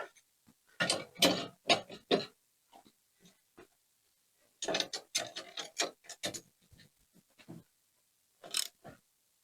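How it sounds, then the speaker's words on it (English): A bolt and 1-inch flange nut on a Trac Seats suspension kit seat bracket for a Gravely or Ariens zero-turn mower are tightened with a ratchet, heard as close clicking bursts in two main runs separated by pauses. "It's a little easier to tighten the bolt this way due to this side lip."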